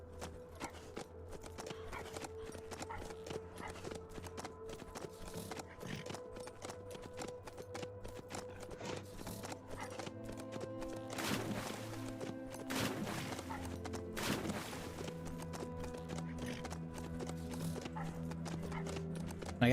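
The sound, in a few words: horse riding hooves in video game HumanitZ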